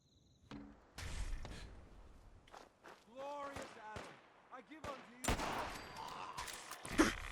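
Anti-materiel rifle firing .50 rounds in the Fallout 4 video game, a few sharp loud cracks with sustained booming echoes, interspersed with brief voiced game sounds and someone talking.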